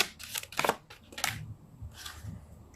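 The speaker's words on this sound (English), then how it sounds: "I just can't shuffle." Tarot cards are shuffled by hand in quick, crisp bursts of riffling and flicking, close and fairly quiet, with short pauses between them.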